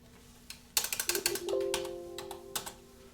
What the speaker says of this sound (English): Let's type it in here.